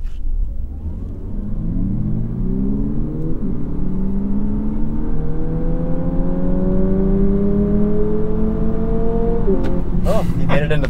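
A 2022 Lexus UX accelerates hard with a steady engine drone that climbs in pitch through several simulated gear steps, each step dropping and rising again. It sounds close and loud, with a brief clatter near the end.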